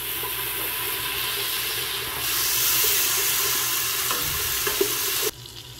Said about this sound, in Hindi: अब इसमें हमने लहसुन अदरक है 1 टेबलस्पून ये डाल देना हमने, और भून लेना हमने इसकी खुशबू आने तक